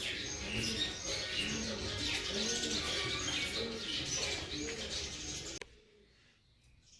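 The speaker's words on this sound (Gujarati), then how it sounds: "સાંભળી શકો છો બધા પક્ષીઓનો સરસ સરસ અવાજ આવ્યો છે" Many birds chirp and call together in a dense morning chorus, with soft cooing underneath, before the sound cuts off abruptly near the end.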